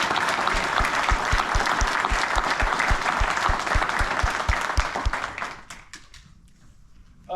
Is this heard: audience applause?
yes